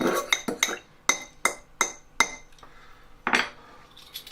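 A utensil clinks and taps sharply against a bowl in a quick irregular series while corn flour and soy sauce are mixed, loud and close with no talk.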